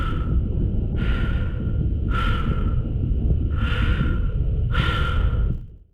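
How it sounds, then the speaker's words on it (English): Commander Shepard breathes slowly inside a helmet while drifting in space in Mass Effect 2, with four or five drawn-out breaths set against a low, steady rumble. "there's little sound to be heard other than Shepard's breathing"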